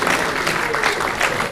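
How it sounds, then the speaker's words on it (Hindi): A seminar audience at an agricultural research council foundation day gives sustained, dense applause, loud and even throughout, before it cuts off abruptly. "जोरदार तालियां हमारे आप सबकी तरफ से"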